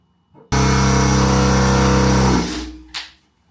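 A drill motor runs at a steady, loud, buzzing pitch for about two seconds while boring a hole into wall tile, then spins down, followed by a brief scrape.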